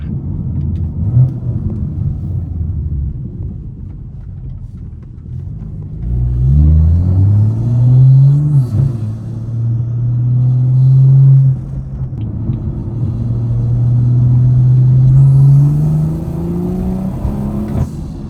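A BMW 340i running E40 ethanol race fuel builds from a low idle rumble into rising, sustained acceleration, the engine note climbing loud and close through several pulls.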